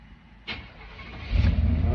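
1993 Chevy truck engine cranking briefly with a sharp starter burst, then catching and settling into a loud, close, rumbling idle.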